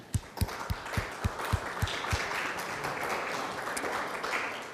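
A small meeting audience gives a round of applause for a new member, a light patter of clapping that stays moderate and diffuse. A few sharper, isolated claps stand out near the start.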